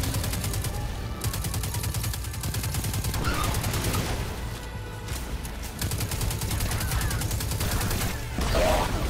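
Rapid automatic gunfire rattles in Destiny 2, sustained bursts of loud fast shots that carry on almost without pause throughout.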